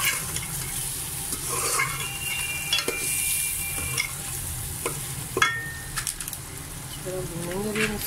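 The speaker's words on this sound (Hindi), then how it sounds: "अब हम इसको अच्छी तरह चलाएंगे भूनेंगे" Turmeric, salt and spices stirred and roasted in a hot pan for nihari, a steady sizzle of frying under repeated scraping and clanks of a spoon, close by with a few brief voice sounds.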